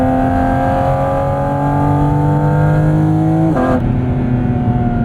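The engine of a 2023 Porsche 718 Cayman GT4 RS in PDK Sport mode revs hard and close, a loud, sustained tonal howl that shifts pitch abruptly near the end, with no talking.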